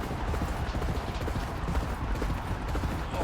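Horse hooves gallop in rapid, continuous, loud rhythm during a race in a horse racing video game, a dense drumming of footfalls heard alone throughout.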